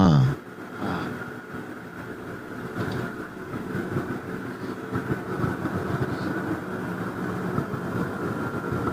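A train running, picked up over a phone call: a steady low rumble with faint rhythmic rail clatter that continues throughout, muffled and distant, with no speech over it.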